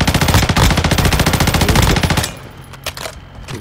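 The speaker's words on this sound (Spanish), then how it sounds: "Otro me dispara. Otra escopeta, creo." Rapid automatic gunfire in the mobile shooter Call of Duty Warzone Mobile, a loud, fast, evenly spaced burst of shots lasting about two seconds, followed by a few fainter scattered shots.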